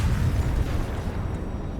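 A blast rumbles through the Project Matis video game, a dense, heavy low roar that holds steady and then slowly thins out over about two seconds, with no voices.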